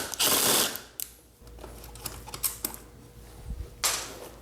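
A ratchet clicks rapidly while loosening the seat bolts on a Yamaha R6 motorcycle, close and crisp, with bursts of handling noise at the start and end.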